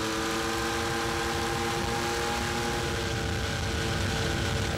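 A vintage airplane's piston engine and propeller drone steadily, a loud, continuous rumbling hum with a strong low throb that holds without a break.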